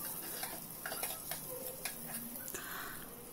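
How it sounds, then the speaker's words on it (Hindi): Badi (vadi) frying lightly in oil with cumin and a bay leaf in a pan: a low, steady sizzle broken by intermittent light taps and scrapes of a spoon, no voices. "उसके बाद हम इसे भी फ्राई करेंगे हल्का सा।"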